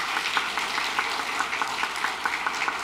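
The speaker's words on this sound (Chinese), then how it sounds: "好，我们一起来拍手欢迎他们。" A congregation at a Taiwanese-language church service claps together to welcome three exchange students. The clapping is steady and rhythmic, with no talk over it.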